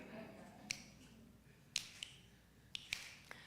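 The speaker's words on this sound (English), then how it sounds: "today we're gonna snap on 2 and 4" Sparse finger snaps from a few people keeping time on beats two and four, crisp and quiet against a faint room background.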